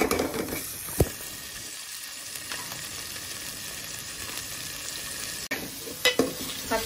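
Chopped tomatoes hiss and sizzle in a pan for goat leg kulambu, a steady close frying noise with a few sharp spoon knocks at the start and end, no talking.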